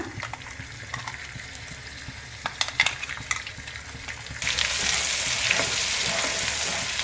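Loud, steady sizzling of fine masala paste frying in hot oil for chicken masala, preceded by scattered clinks and stirring scrapes, then a sudden surge of hiss that continues.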